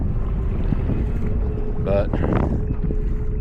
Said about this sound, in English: It is windy, which feels good, but it's also making the paddling a little on the tiresome side.